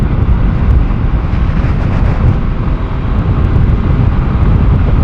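Honda CBR150R motorcycle engine on a ride, heard as a steady loud roar mixed with heavy wind rush throughout, no voices.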